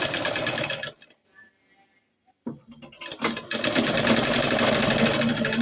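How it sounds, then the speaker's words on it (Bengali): A sewing machine stitching the rubber band casing of a salwar runs loud and steady at close range, pauses into near silence, then restarts with a few slow stitches before settling into a fast continuous whir. "এরকমের জন্য আমি এখানে একটা সেলাই দিয়ে নেব"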